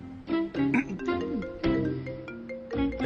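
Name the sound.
phone ringtone ringing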